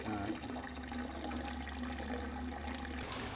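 Water draining through malted barley in a homebrew mash tun, a steady low rushing gurgle that holds constant and then cuts off near the end, with no talking.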